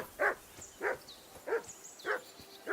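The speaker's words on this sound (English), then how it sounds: "I assume you can hear that damn dog of yours bark" A dog in a video game barks five times at a steady, evenly spaced rhythm, each bark short and clear over a quiet background.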